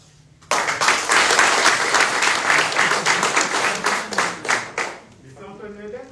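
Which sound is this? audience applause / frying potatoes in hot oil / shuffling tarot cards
audience applause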